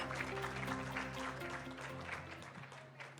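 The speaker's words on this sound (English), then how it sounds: "please give them one more round of applause." Brief, fading round of applause from a forum audience over soft sustained background music, quiet overall and tapering off toward the end.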